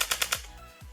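Lancer Tactical MMC airsoft gun firing a rapid burst of four sharp shots in a rate-of-fire test, close and loud, followed by a short mechanical clunk.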